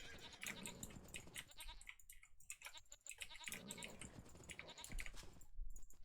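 Goats and sheep bleating repeatedly in a video game, several overlapping farm-animal calls in quick succession over light game ambience, fairly close and clear.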